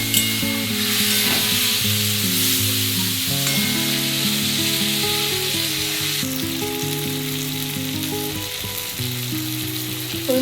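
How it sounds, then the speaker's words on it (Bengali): Dry spices sautéed with a splash of water in a pan for a light bata fish curry, a loud continuous bubbling sizzle with layered hissing, no voices. "সামান্য জল দিয়ে ভালো করে কষিয়ে নিচ্ছে"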